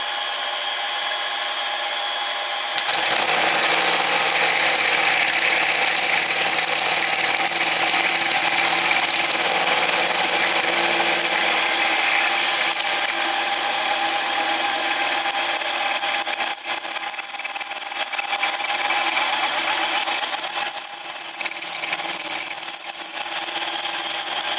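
An 8mm drill bit cuts into a workpiece on a lathe after a short quiet start, giving a steady, loud mechanical whir with grinding and scraping that continues to the end.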